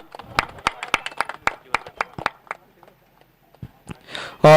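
Scattered audience clapping at a cricket-style tournament prize ceremony, a run of sharp distinct hand claps from a few people that thins out and fades to near silence, then a louder burst at the very end.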